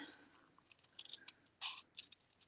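Faint snipping of scissors cutting paper, a series of small crisp clicks and swishes with one louder cut, quiet and close.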